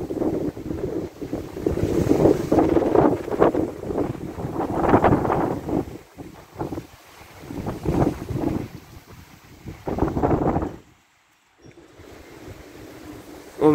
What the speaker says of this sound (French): Le bruit ça fait dans les grillages derrière.